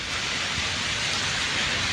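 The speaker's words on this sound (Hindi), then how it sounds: "सोलन में इस वक्त जमकर बारिश हो रही है" Heavy rain pours down in Solan, a dense, even hiss of water with no breaks and no voices.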